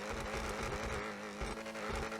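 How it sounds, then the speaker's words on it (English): The Ocelot XA-21 supercar in GTA 5 revving hard, a loud, continuous high-pitched engine roar with slight surges in pitch, heard up close with no talking. "So here's the XA-21 sound."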